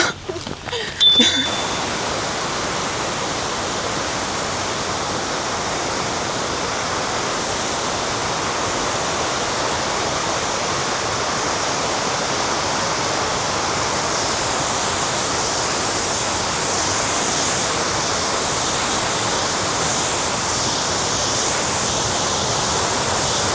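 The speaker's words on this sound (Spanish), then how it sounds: "Esta cascada tiene 14 saltos que descienden en un total de 500 metros hasta el lago Brienz." Giessbach waterfall cascading down toward Lake Brienz in Switzerland, a loud, steady broadband rush of falling water roaring continuously, with a brief scrape of handling at the start.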